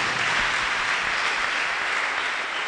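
Steady, dense applause from a congregation fills a church testimony service, loud and continuous throughout with no pauses.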